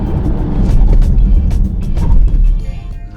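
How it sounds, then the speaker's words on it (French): BMW i4 M50 in a hard emergency braking test, close road and tire roar with wind buffeting that swells and then eases over a few seconds. "on va faire un ultime test du freinage d'urgence"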